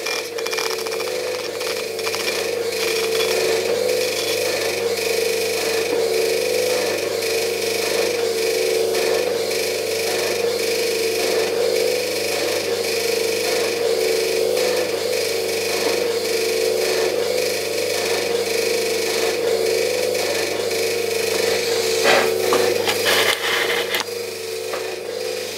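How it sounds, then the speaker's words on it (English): Metal rib scraping agateware clay on a new pottery wheel: a steady, continuous rasping scrape that holds at an even level for the whole stretch, close up, with no talk over it. "So we're going to scrape it with a metal rib."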